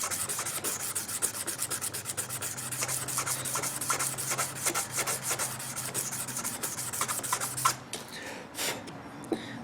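A knife blade's bevel being sanded by hand on sandpaper in a flint-and-steel knife-making kit project, giving a steady, close, rhythmic rasping scrub of quick strokes that stops near the end.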